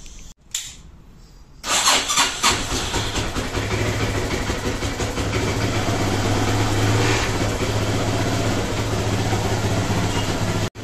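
A Hero Honda Karizma R motorcycle with a carburetor fires up after a short crank, then settles into a steady, even idle as it warms, running close and continuous to the end.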